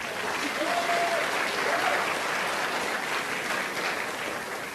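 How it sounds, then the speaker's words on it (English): An audience applauds steadily for Ryan Stark at a Pecha Kucha night in Edmonton, dense clapping sustained throughout with a faint voice or tone briefly audible beneath it. "So let's get a round of applause for Ryan Stark"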